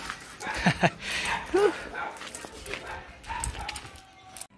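Several dogs bark and yip at a delivery rider outside a house, sharp short barks and whimpers close by, mixed with people talking.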